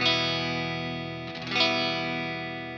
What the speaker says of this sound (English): Now you can see that I have a nice, solid, bright, clean tone.